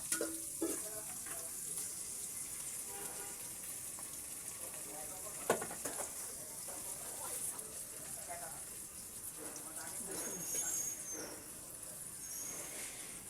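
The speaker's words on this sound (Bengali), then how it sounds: "এবার আমি পেঁয়াজ রসুন বাটাকে ভেজে নেব" Onion with ginger-garlic paste frying in a pan while cooking beef tripe bhuna, a steady soft sizzle running throughout with occasional stirring clinks and scrapes.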